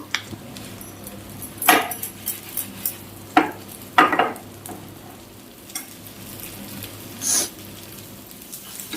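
Bhetki fish pieces frying in oil for restaurant-style chilli fish, a steady sizzle broken by several sharp scrapes and clinks of a utensil stirring and lifting pieces in the pan, close by with no talking.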